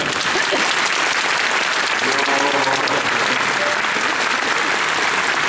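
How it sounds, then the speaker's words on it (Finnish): Audience applause at a horse show during a horse fair, a steady, dense wash of clapping that fills the whole stretch at even strength, with faint voices murmuring beneath it. "Annetaan pojulle aplodit"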